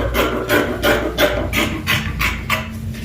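Ankara fabric is cut out into a band with about eight quick, evenly spaced snipping strokes, close and fairly loud, with no talking.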